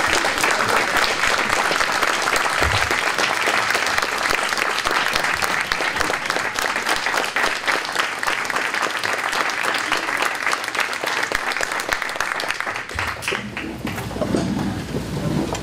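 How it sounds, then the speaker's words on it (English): Loud, sustained applause from a large audience at a restaurant ribbon-cutting ceremony, dense and steady throughout, tapering slightly near the end. "let's give her a big round of applause"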